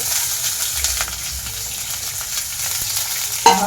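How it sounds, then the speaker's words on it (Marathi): Washed rice sizzles steadily as it is sautéed in ghee in a pan for rice kheer. The frying is close and continuous, with faint stirring scrapes and no talk. "चांगला परतून घ्यायचा पाच मिनटं"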